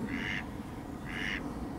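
A duck on a lakeside quacks twice, two nasal, rasping calls about a second apart, moderately close, over a steady outdoor rumble of wind and background noise.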